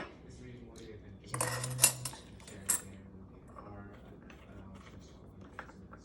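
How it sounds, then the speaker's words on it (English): A whisk rattles in a bowl while vanilla extract and cinnamon are mixed for cinnamon kudlas: a quick run of metallic clinks and taps, then quieter handling, with talking throughout. "Just gonna whisk it a little so that the cinnamon is evenly, and the vanilla and cinnamon are evenly in the mixture."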